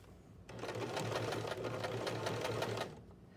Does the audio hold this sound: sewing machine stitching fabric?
yes